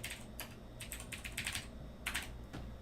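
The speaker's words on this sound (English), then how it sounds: "You just type your comment" Light clicking keystrokes on a computer keyboard as a short comment is typed, quiet and close, in a few quick bursts separated by brief pauses.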